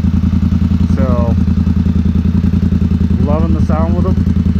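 Polaris Sportsman 1000XP ATV engine fitted with RJWC exhaust, idling loud and close with a steady low throbbing rumble, a couple of brief revs rising and falling over the running engine.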